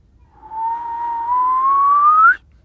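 A person whistles one clear sustained note close up, the pitch gliding steadily upward over about two seconds as the tongue shifts inside the mouth, then stopping abruptly against near silence.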